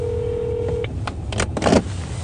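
A telephone dials out to place a call, with a steady tone and then a quick run of beeps over a low background hum before the line connects.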